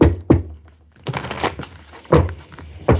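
Tarot cards shuffled by hand during a zodiac reading, giving several close, brisk bursts of riffling and slapping card noise separated by short pauses.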